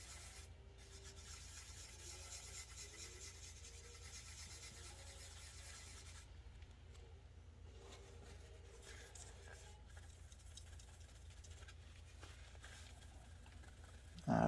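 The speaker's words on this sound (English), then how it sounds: "You just want to sand so you get a nice, smooth, even sheen." A Pontiac Fiero body panel is sanded by hand, giving a faint, steady rubbing rasp that carries on evenly for the whole stretch with no talking.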